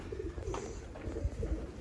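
Soft, low cooing of a teddy pigeon, a few gentle repeated coos close by and faint in a quiet loft.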